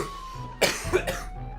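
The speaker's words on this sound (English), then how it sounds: "Oh my god, my coughing." Two quick, harsh coughs burst out close up, one after another, over a quiet background hum.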